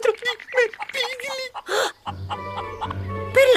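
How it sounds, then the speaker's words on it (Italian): Cartoon chicken clucking in short bursts between lively voices, followed by a run of steady, close clucks and squawks with more talk at the end. "Guardate, è una gallina!"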